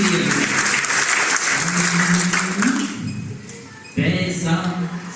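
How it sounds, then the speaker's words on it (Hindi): Applause at a Hindi poetry recital rises loudly, thins out, and then bursts back in a second wave. It goes on clapping to the end with no voice over it. "निवेदन करता एक बार ताली बजाएं"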